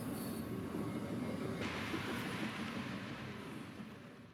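Heavy model railway freight trains labour up a mountain grade on a layout, a steady close rumble of rolling stock with a faint squeal, fading slightly toward the end.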